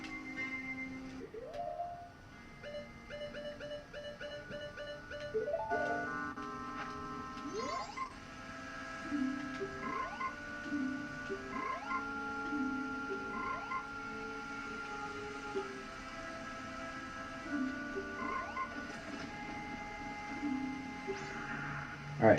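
Frog croaks from a creature sitting on a log in the video game Zelda: Majora's Mask, repeated short croaking calls over a soft background of electronic game music.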